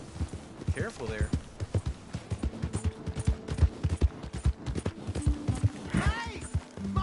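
Horse hooves clip-clopping along in Red Dead Redemption II, a steady run of hoofbeats under intermittent talk, with a brief whinny partway through.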